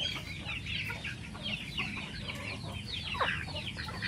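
Chickens cluck and chatter near a brooding hen sitting on eggs on a farm, several birds making soft repeated calls at moderate distance over a low background rumble.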